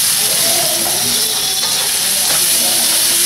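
Pork hitting a hot pan for pancit canton and frying alongside onions, a loud, steady broadband sizzle with some stirring scrapes, continuous and close throughout.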